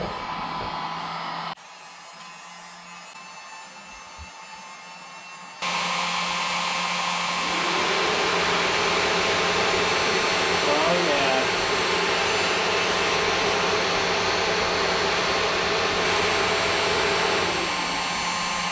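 A heat gun blows hot air onto a Kawasaki KX250X dirt bike, making a steady loud whoosh joined by the whirring of its newly fitted cooling fan, the noise rising after a short quieter stretch and running continuously.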